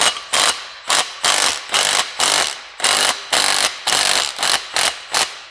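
A ratcheting wrench tightens a bolt to press a bushing into a Subaru, giving about a dozen loud, evenly spaced clicking strokes with brief gaps between them.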